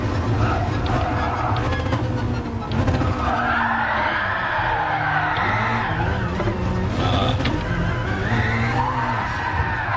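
Alfa Romeo 4C racing in Gran Turismo Sport during a Nations Cup round, a continuous loud engine whine rising and falling through gear changes, with tire squeal and skidding layered over it.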